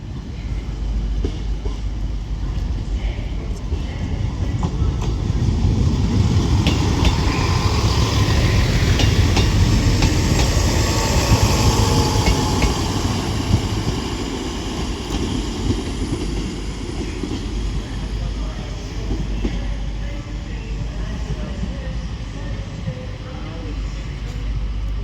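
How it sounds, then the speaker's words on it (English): A Transport for Wales class 158 diesel unit pulls out of Crewe on the shuttle to Shrewsbury. A broad rumble swells to a peak midway and then eases off, and a voice talks over the engine noise. "this Transport for Wales class 158 departs Crewe now, heading on the shuttle service to Shrewsbury"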